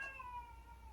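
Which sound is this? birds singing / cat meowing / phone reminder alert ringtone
cat meowing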